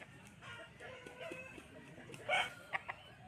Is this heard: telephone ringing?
no